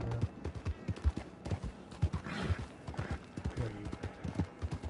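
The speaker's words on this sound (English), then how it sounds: "Run, horsey, run." Horse hooves gallop in Red Dead Redemption 2 Online, a fast rhythmic clip-clop pounding steadily and close, with occasional breathy snorts over a faint game background.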